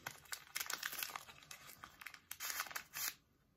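Close, crinkly plastic candy wrapper being torn open across the top in several sharp rustling bursts, ending with one longer rip.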